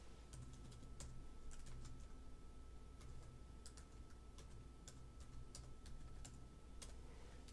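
Rapid, irregular keystrokes on a computer keyboard entering an IP address, close and steady clicks with no talk over them.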